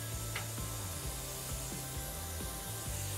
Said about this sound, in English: I hit cycle start and my gang slide is going to move to a known distance and stop.